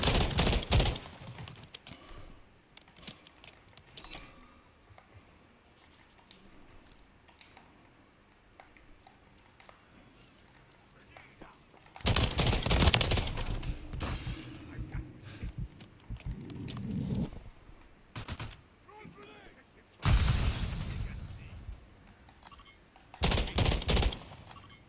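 Gunfire from Call of Duty: Modern Warfare III, a mix of scattered single shots and several loud, dense automatic bursts of a few seconds each over quieter game ambience, with no talk.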